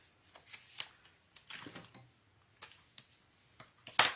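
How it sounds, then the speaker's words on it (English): Scrapbook paper is folded and burnished by hand: soft crinkles, taps and brisk rubbing swipes come in short irregular bursts, close and quiet, ending in a sharper crisp stroke, with no voice. "Now you're just going to want to fold and burnish."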